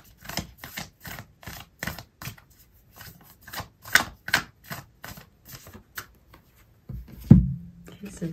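Oracle cards shuffled by hand, a quick run of crisp riffling flicks and slaps in uneven bursts, close up and fairly quiet, ending with a dull thump as the deck is set down.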